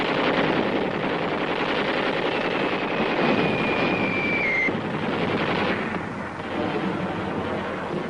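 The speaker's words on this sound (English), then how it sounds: "3 divisions of Marines inched forward in the face of heavy fire from a thoroughly dug-in enemy." Artillery and gunfire in the Marine assault on Iwo Jima, a dense, continuous roar of heavy firing and blasts filling the scene, loud and unbroken, with a brief whistling tone rising above it midway.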